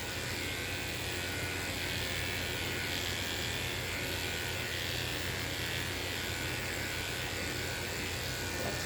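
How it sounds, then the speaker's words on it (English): Electric clippers run steadily and close throughout while a small dog's belly is shaved down during a basic grooming session, a constant buzzing drone with no talk. "you're going to take your clippers and shave down underneath the belly"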